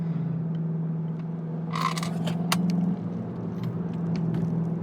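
A 2020 Volkswagen Jetta GLI with a 7-speed automatic driving in sport mode, its engine a steady, fairly loud drone with a deep rumble and a few light scrapes and rattles over it, without talk.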